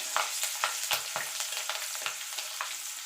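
Black cumin and slit green chillies sizzling in oil while being stirred, with a steady crackle broken by repeated scraping spatula strokes, close up and with no speech.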